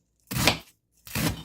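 A knife chops through shredded cabbage and onion on a board for a vegan keto barbecue slaw, two close, crisp cutting bursts separated by a short pause, with no talking.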